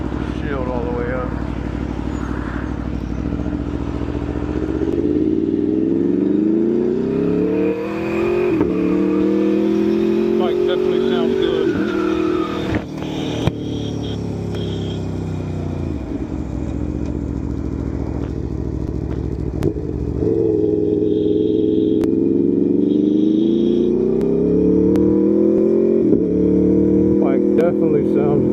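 The V4 engine of a 2018 Aprilia Tuono V4 1100 Factory motorcycle drones loudly while riding, rising and falling repeatedly as it accelerates through the gears, with wind rush underneath and a rider talking at times.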